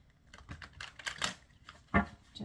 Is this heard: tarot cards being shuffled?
yes